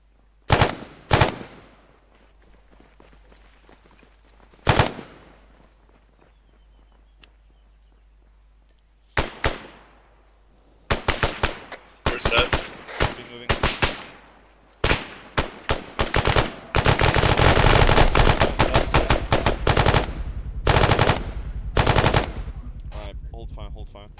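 Rapid automatic and single-shot gunfire from Arma 3 squad combat, sharp cracks and bursts scattered then growing dense and sustained near the end, with occasional voices talking between volleys.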